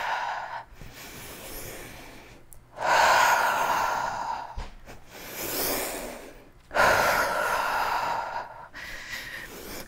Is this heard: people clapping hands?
no